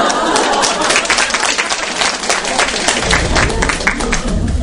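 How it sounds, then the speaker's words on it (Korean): Audience applause at a school reading lecture for elementary students, a steady dense clatter of many hands that carries on without a break. Some talk runs underneath it. "저는 지금 강요된 박수를 받고 있습니다."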